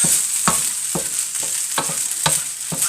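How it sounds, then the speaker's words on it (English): Leftover rice being stir-fried with teriyaki sauce in a pan, with steady sizzling and regular scraping strokes of a utensil about every half second, close up and without talk. "now we're going to put some more teriyaki in here. And we are just going to heat the rice."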